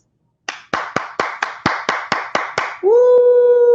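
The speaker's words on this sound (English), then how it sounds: "Yeah, that's me clapping." A single person claps their hands nine times in an even, brisk rhythm, sharp and close, followed by a sustained vocal whoop.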